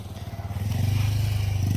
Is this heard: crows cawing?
no